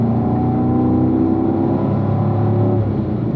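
A race car engine drones loudly and steadily from inside the cockpit as the car powers out of turn 10, the pitch gradually rising under acceleration without a break.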